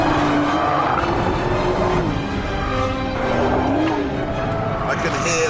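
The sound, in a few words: Nissan Skyline GT-R R35 tyres squealing on track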